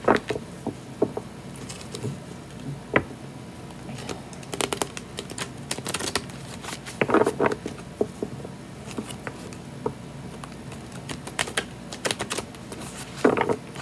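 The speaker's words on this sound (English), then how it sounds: "It's a big one to shuffle, though. It's very hard to shuffle." Irregular clicking and flicking of a large tarot deck being shuffled by hand, close and fairly quiet, with scattered sharper snaps in uneven bursts.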